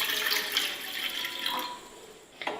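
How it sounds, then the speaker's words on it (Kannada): About half a glass of water is poured into a cooking pot, a close splashing pour that runs steadily, thins out toward the end and finishes with a brief drip. "ಈಗ ಒಂದು ಪಾತ್ರೆಗೆ ಒಂದು ಅರ್ಧ ಗ್ಲಾಸ್ನಷ್ಟು ನೀರನ್ನ ಹಾಕ್ತಾ ಇದ್ದೀನಿ"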